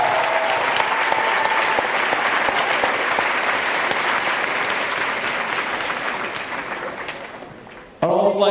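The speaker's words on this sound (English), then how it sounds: "Please give a huge round of applause to Washington's 10th Legislative District State Representative" Applause from a college commencement ceremony crowd rolls on as a loud, dense wash of clapping, gradually thinning and fading over several seconds before a voice begins speaking.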